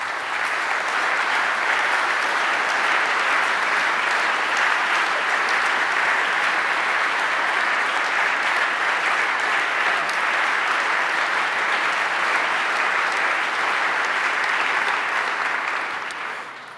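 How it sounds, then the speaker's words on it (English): Loud, continuous applause from a conference audience at a Ukraine reconstruction conference, a thick unbroken wash of clapping that holds steady for the full length before tapering at the very end. "Once again, this is your applause"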